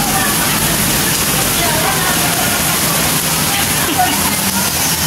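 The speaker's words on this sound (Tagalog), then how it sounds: "Grabe, lakas ng ulan." Heavy typhoon rain pours down in a dense, unbroken roar, loud and close, with water splashing steadily on surfaces.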